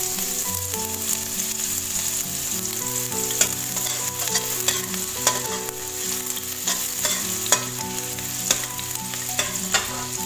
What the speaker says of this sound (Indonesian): Sekarang lanjut Bunda mau tumis bawang merah dan bawang putih.